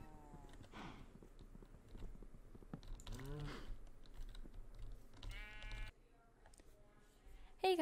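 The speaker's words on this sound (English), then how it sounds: "Come here, sheep." Several bleats from Minecraft sheep rise over steady keyboard typing and game ambience, spaced apart, with a voice briefly heard and a sharp bleat closing.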